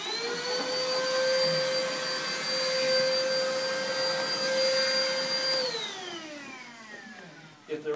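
Cordless pooper scooper vacuum running with a loud steady whining suction hum, close up, then winding down in pitch as it switches off, followed by a couple of handling knocks.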